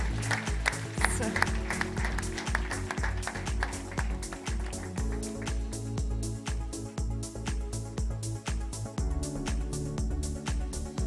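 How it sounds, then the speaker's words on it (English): An audience at a global summit in Germany gives a dense, sustained round of clapping as a guest takes the stage, with rhythmic stage music thumping underneath. "Huge round of applause, ladies and gentlemen."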